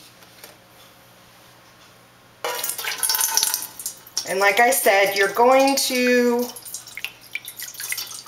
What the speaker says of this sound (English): fill around the ramekin with the distilled water.